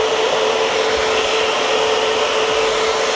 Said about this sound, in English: when you begin to dry the hair, make sure you have the right temperature and place the hair into the diffuser